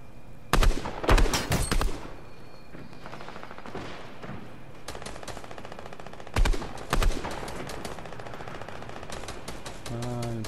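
An SMG fires in Fortnite: rapid bursts of sharp gunshots, loud and close, come in several short volleys, with quieter shots and game noise between them.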